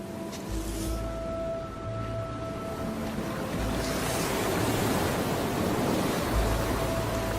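Ocean surf on a sea-turtle nesting beach, a steady loud roar of breaking waves and wash with low rumbling surges and no voices.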